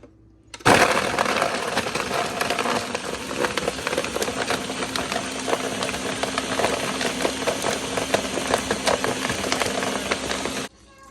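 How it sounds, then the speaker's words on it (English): A blender kicks on abruptly and roars continuously for about ten seconds, loud and close, its motor grinding through chunks of fruit before cutting off. "I'm just putting these in the blender really quick"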